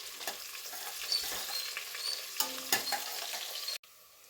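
Chopped onions and green chillies fry in hot oil for chicken biryani, a soft, close sizzle with scraping stirs and light clinks, ending in an abrupt cut to quieter sound.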